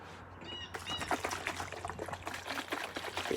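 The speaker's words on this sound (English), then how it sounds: "I'm going to splash it a little bit out here." Water splashes and pours nearby in a lively, continuous stream of small splashes and trickles, fairly close and moderately loud.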